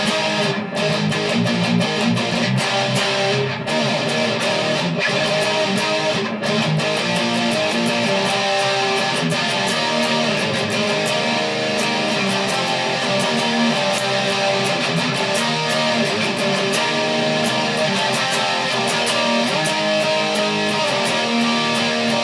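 An electric guitar plays the chorus of a song in a dense, sustained, loud passage that runs continuously with no talking.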